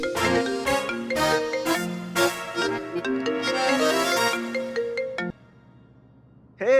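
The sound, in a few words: phone ringtone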